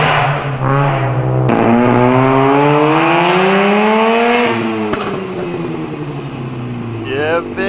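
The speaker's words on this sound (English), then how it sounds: "I can hear an RX-7 pulling up in the distance." A Mazda RX-7 pulls up, its engine note climbing loud and steady through a long rising pull, then a shift and a lower settle before a final brief rev.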